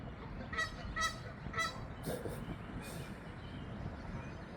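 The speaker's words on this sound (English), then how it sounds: "These geese communicate with one another," A flock of geese honks in short repeated calls, several bursts in the first seconds followed by a few more, over a steady outdoor background hum.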